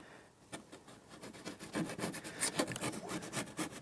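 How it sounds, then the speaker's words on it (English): A tool scrapes in steady, rhythmic rasping strokes as lime scale is worked off 90-year-old nickel plating on a 1929 Riley 9 Monaco, close and moderately loud. "you can just scrape that sort of lime scale type surface off"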